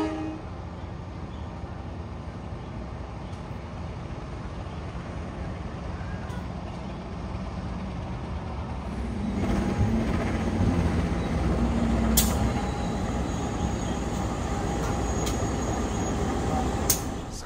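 Matarmaja long-distance train waiting at a station to cross a local train, a steady low rumble of the train that grows heavier and louder partway through, with brief high squeals and clanks and no talk.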